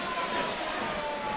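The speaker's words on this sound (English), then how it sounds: "Here comes the air raid siren." An air raid siren sounds through a football stadium crowd during a match, a loud sustained wailing tone riding over dense crowd roar for the whole moment.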